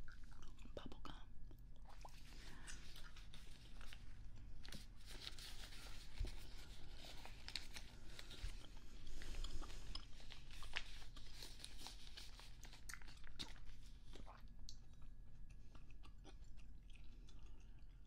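Grape-flavoured Big League Chew bubble gum being chewed right at the microphone, a steady run of soft, wet, crackling bites and squelches, close and quiet, with faint whispered talk around it.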